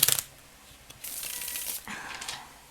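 A Smith-Waite Centennial tarot deck in a tin is shuffled by hand, giving a soft riffling flutter of cards with a light tap at the start, close and quiet, and no talking.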